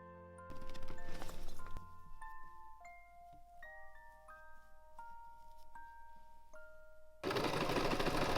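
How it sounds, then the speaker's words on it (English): A sewing machine stitches the short sides of fabric Christmas present sacks, starting with a brief loud whir, then a quieter stretch with melodic tones, then running loudly again. "I'm going to stitch these shorter sides so they don't fray like that"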